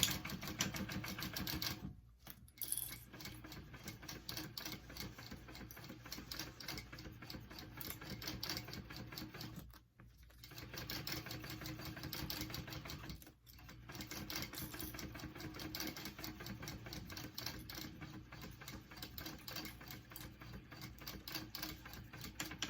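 A sewing machine top stitches a handbag in long, steady runs of fast, even needle whirring, broken by a few brief pauses. The sound is fairly quiet and close.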